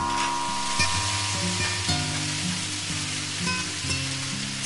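Salt and pepper jumbo shrimp stir-frying in a pan, a steady close sizzle under repeated clinks and scrapes of the utensil against the pan.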